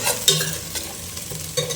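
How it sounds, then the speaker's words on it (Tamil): Chopped onion and curry leaves sizzle in hot oil in a pan while fish curry is made, a close, continuous crackling fry broken by a few sharp stirring scrapes. "வெங்காயம் கருவேப்பிலை இருந்தால் கருவேப்பிலை போட்டுங்க"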